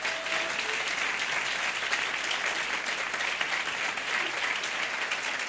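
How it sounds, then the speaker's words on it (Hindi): An audience at a believers' seminar gives steady, dense applause that stays loud and even from start to end, a broad crackle of many hands clapping at once with no talk over it. "एक दफा यीशु मसीह के लिए तालियां बजाओ।"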